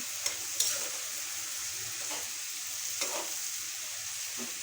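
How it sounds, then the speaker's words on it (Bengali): Fish pieces going into a frying pan and being stirred, with a steady soft sizzle throughout and a few sharp clinks and scraping strokes spaced across the stretch, no voices. "মাছগুলো দিয়ে দিচ্ছি মাছগুলো নেড়ে নিচ্ছি"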